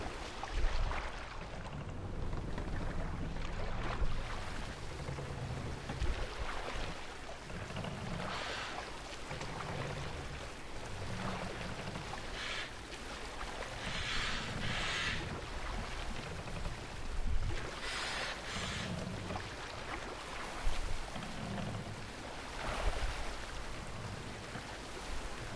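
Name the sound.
boat sailing on water in video game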